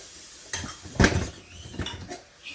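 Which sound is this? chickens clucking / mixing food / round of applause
mixing food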